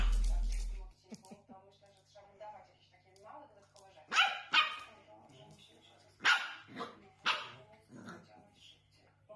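A dog gives several sharp, loud barks in short bursts with whimpering yips between them, heard near and clear while people talk over the scene.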